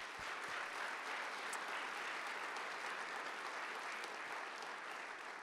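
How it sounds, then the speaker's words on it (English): A church congregation applauding during a Sunday worship service, with steady, dense clapping that holds evenly for several seconds. "give them a round of applause and welcome"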